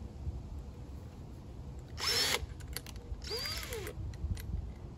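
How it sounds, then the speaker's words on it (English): A power drill spins up in two short bursts while boring pilot holes, each whine rising and falling briefly against a quiet, hissy workshop background. "That's why I have to drill pilot holes for everything."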